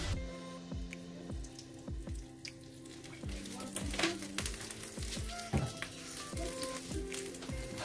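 Bread cubes fry in olive oil over lowered heat, giving a steady close sizzle with repeated scraping strokes as they are stirred continuously.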